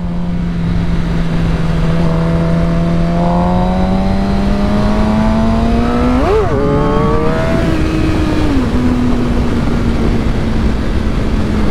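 A Suzuki GSX-R 750 motorcycle engine drones steadily at close range, then revs sharply in a quick surge and drops back to a steady note as the bike lifts its front wheel in a small wheelie.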